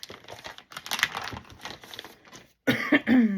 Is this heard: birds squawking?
no